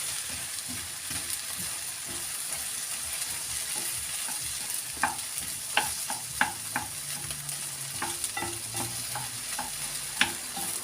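Stale bread soaked in egg being stirred in a frying pan, with a steady soft sizzle throughout and a series of sharp, distinct scraping clicks of the utensil against the pan in the second half.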